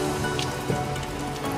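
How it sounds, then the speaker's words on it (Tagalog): Heavy rain comes down on a street in Kyoto, Japan, as a steady, dense patter of drops on hard surfaces, fairly close and unbroken throughout. "ang lakas ng ulan"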